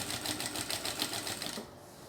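A sewing machine runs a quick backstitch along a zipper while making a cross-body bag, its needle chattering in a fast, steady rhythm close by for about a second and a half before stopping abruptly.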